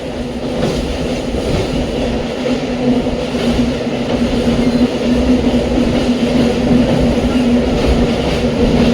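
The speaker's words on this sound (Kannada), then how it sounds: "Tumakuru Shivamogga MEMU express ಬಂದೈತ್ರಿ" Tumkur–Shivamogga MEMU Express train arriving at Bhadravati station, a loud steady rolling rumble with a sustained low hum, continuous and close throughout.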